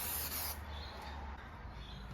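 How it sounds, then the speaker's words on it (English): Plexus protectant sprays onto a car headlight from an aerosol can, giving a broad hiss that is strongest in the first half second and then settles into a quieter, steady spray. "All you do is spray it on"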